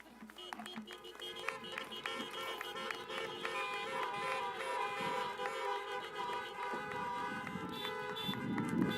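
Car horns honk in a dense, overlapping chorus at an outdoor drive-in college commencement, with sustained tones and short toots layered continuously over crowd noise for the full stretch.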